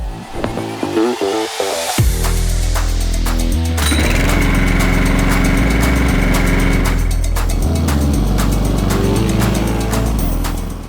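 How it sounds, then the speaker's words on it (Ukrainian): A STIHL RM 2 R petrol lawn mower engine pulls into life and settles into a loud, continuous buzzing drone that stays close and steady throughout. "Простими і швидкими рухами газонокосарка запущена і працює."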